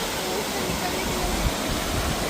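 Steady, dense rushing of a waterfall at Amboli Ghat, its water flowing down and passing under a bridge, fills the whole stretch as an even, loud roar with no break.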